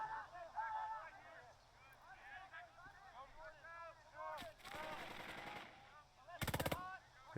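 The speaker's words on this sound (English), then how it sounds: "MG! All right, yeah, we got to get rid of the MG there." Machine gun fire in the tactical game Burden of Command, rapid rattling bursts near the end, with someone talking over scattered game effects earlier.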